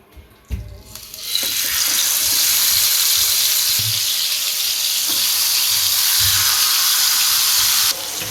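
Chicken pan-frying in a small amount of oil in a kadai over low to medium flame, a steady loud broadband sizzle that starts after a soft clatter and continues evenly throughout, with no voices.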